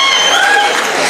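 Comedy show audience applauding, a brief loud burst of clapping and crowd noise with a stage voice cutting in over it.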